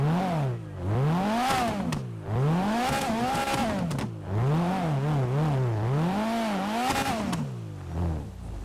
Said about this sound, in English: this thing sounds like a rally car should, and it spits flames out the back